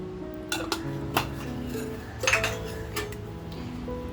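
A spoon clinks and scrapes against a bowl while chicken roll filling is mixed with spices, giving soft irregular taps and a few sharper knocks over a quiet background, close and unhurried.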